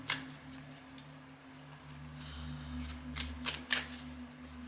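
Tarot cards shuffled and handled close by in a quiet room, with a soft continuous riffle and a few sharper flicks and taps near the end, no voices.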